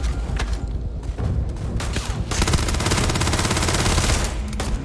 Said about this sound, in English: One more good hit with the shotgun should do it